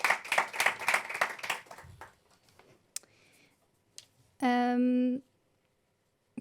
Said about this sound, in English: So can I have a round of applause for Lisette?